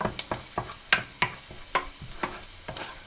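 Onions sauté in a pan while a utensil scrapes and stirs in quick, irregular strokes, close by and fairly quiet, with no talking.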